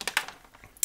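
Keys clacking on an Apple ADB keyboard, a few quick separate strikes close by in a quiet room with no talking.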